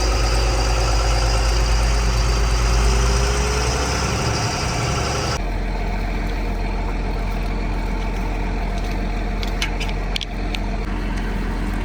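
A farm tractor's engine idles in a steady, loud drone close by, with a sudden shift in tone partway through and a few faint clicks.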